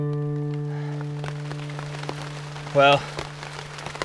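Steady rain falls in a Hawaiian rainforest, a soft continuous patter over a low hum, with a brief burst of a voice speaking near the middle.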